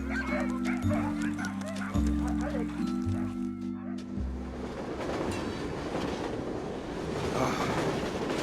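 A train pulling in at a Santa event, heard as a low rumbling with rhythmic tonal blasts early on, then broadband rail noise under crowd chatter and people talking.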